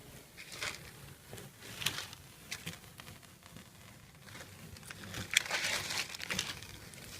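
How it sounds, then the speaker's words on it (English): Dip coating film being peeled off a Mustang GT, giving crinkling, crackling rips in uneven bursts, close and fairly quiet, without speech. "So this edge is peeling now"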